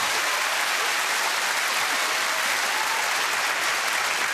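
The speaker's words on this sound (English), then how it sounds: "we'll have a round of applause from our audience." A studio audience gives a sustained, even round of applause, a dense wall of clapping at steady loudness throughout, with no voices rising above it.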